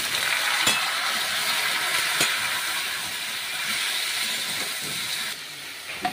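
Pumpkin pieces, for a dish with dried fish, fry in a pan with a steady, loud broadband sizzle and hiss. A few brief clatters from stirring cut through near the start and middle, with no talking.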